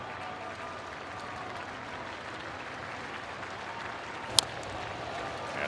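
A sellout baseball crowd at a St. Louis Cardinals home game against the Dodgers claps and cheers in a steady, dense roar that fills the stadium, with one sharp crack near the end.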